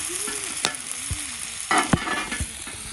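Sweet potatoes sizzle and fry in a pan over a campfire, with a few scraping stirs and utensil knocks breaking through the steady crackle.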